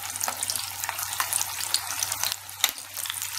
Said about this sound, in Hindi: दाल फ्राई करने के लिए हम ये झारा यूज करेंगे